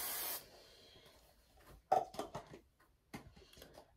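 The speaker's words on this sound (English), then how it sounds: "And then I put hairspray." Tresemme Ultra Fine hairspray, level 3 hold, let out in a short, close hissing burst onto hair at the very start, followed by quiet rustling and handling sounds.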